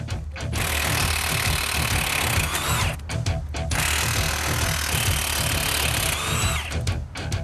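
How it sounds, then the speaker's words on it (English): A power drill whirs in loud bursts while removing the half shaft bolts from a car, with short pauses and knocks between the runs. "Determined not to be defeated, drill in hand, Mary sets about pulling out the half shaft."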